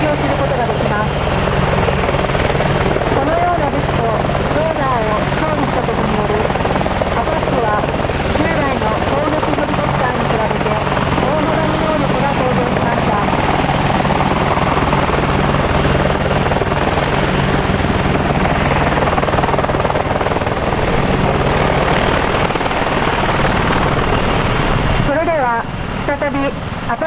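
An AH-64D Apache Longbow attack helicopter performs a flying display at an air show, its loud, continuous rotor and turbine roar filling the whole stretch, with a commentator talking over it.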